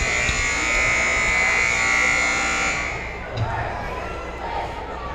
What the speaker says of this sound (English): That buzzer means it's time.